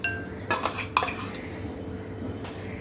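A coarse Kabuli Chana paste is scraped out of a mixer jar into a bowl, with several clinks and scrapes of a spoon against metal and a quiet gap between them.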